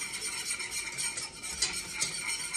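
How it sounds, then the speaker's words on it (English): A spoon steadily stirring thickening enchilada sauce in a pot, with a soft continuous scraping and gentle sizzle underneath, close and unaccompanied by talk. "stirring it. See it getting thicker along the bottom?"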